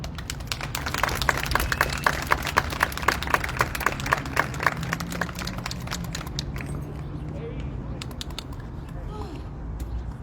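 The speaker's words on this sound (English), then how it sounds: "Let's open with a round of applause." A round of applause opens a spoken piece at a Take Back the Night event in Denver: a few loud, separate claps ring out near the mic over a background murmur, then thin out into quieter scattered patter.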